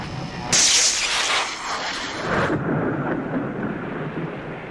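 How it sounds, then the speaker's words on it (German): Rain and thunder in the video game Limbo: a sharp crack of thunder followed by a rolling rumble over a steady hiss of rainfall, fairly quiet overall. "Aber warum regnet es jetzt, hä?"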